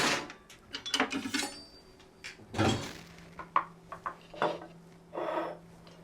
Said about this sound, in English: The next thing I'm going to do is just slice my lime.